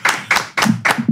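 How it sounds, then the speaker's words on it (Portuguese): Five sharp claps in a quick, uneven rhythm, close and fairly loud, like a short burst of applause from a small group. "Palmas pra eles."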